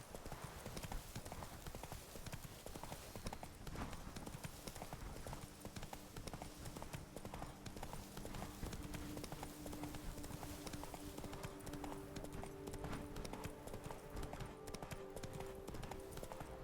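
Hooves of Roach, the horse in The Witcher 3, clip-clop in a steady trotting rhythm, fairly close and continuous, with a faint game soundtrack tone underneath and no talking.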